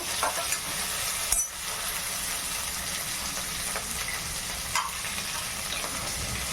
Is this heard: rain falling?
no